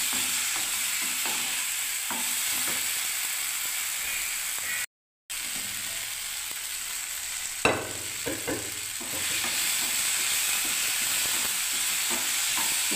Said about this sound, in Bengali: এবার আমি সজনে ডাঁটাটা ঢেলে দিচ্ছি, যে জল আছে সেই জলটা সমেত আমি বন্ধুরা ঢেলে দিচ্ছি এবারে